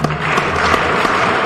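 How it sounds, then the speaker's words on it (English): Standing audience at the Eveleth Hippodrome's 100th-year celebration applauding together on cue, a dense, steady burst of many hands lasting the whole moment without clear separate beats. "when I say clap, just clap 3 times"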